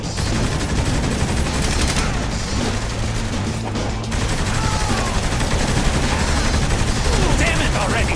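Gunfire in the video game Saints Row The Third, dense loud bursts of shots and crashes running continuously, with a voice shouting over the battle.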